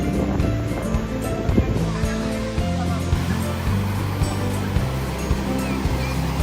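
Steady broadband wash of surf and wind on the beach at Cox's Bazar fills the scene, with a low rumbling hum running underneath throughout.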